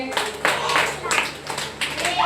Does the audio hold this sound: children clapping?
yes